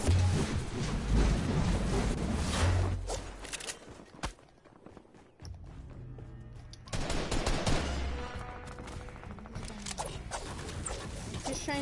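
Dense Fortnite gunfire rattles in rapid bursts amid game sounds and footsteps, with a brief lull midway before the shooting picks up again under a loud, busy mix.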